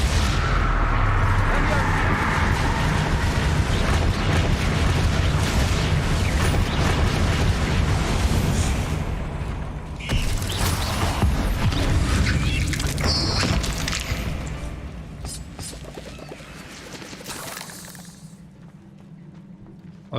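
Confringo fire spells blast repeatedly in a Hogwarts Legacy hard-mode fight, dense rumbling explosions and clanking mechanisms that fade toward the end, with a voice speaking over the din.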